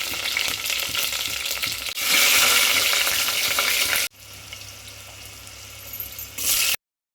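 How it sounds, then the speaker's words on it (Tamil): Curry leaves and green chillies sizzle loudly in hot oil, with a bright continuous crackle that swells and drops as they are stirred. Then it cuts to a quieter frying sound and a final brief loud burst. "கருவேப்பிலை நாலு பச்சை மிளகா இதெல்லாம் போட்டு நல்லா வணக்கி விடணும்"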